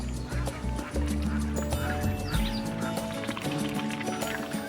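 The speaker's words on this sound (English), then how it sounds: "These ducklings are getting in some early laps to really work up their appetite." Ducklings swim in a drinking trough on a farm, giving a busy chorus of overlapping quacks and peeps at close range, with splashing under the calls.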